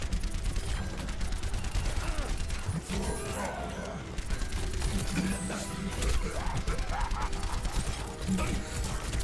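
In the Overwatch zombie mode of the video game, a gunslinger fires revolver shots in a dense stream of gunfire and mechanical clatter, loud and continuous, with game effects and voices mixed in.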